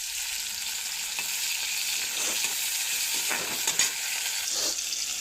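Ginger sizzles and fries in a pan for a cauliflower and potato bhorta, with a steady broadband hiss and several soft scraping stirs partway through, close and alone without talk.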